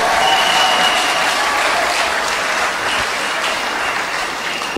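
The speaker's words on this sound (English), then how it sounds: "Clap for Jesus Christ." A church congregation claps for Jesus Christ, a dense, loud and continuous burst of applause from a large crowd that holds steady throughout with no voices standing out.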